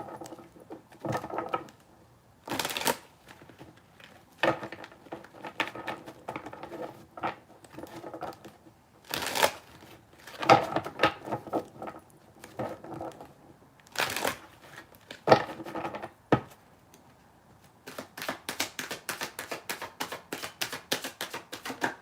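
A Rider-Waite tarot deck being shuffled by hand: soft, papery riffles and rustling bursts come in uneven spurts with pauses between, close and fairly quiet, growing busier toward the end.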